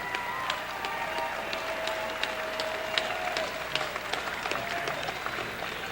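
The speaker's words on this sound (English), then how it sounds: "how about a nice round of applause for both fighters" A boxing-event crowd gives a scattered round of applause for both fighters after the bout, with distinct claps spread over a murmuring arena background that continues the whole time.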